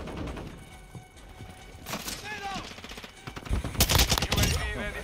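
Rapid rifle fire in Call of Duty: Modern Warfare II crackles in bursts, building to heavy, loud volleys near the end, with voices talking over the shooting.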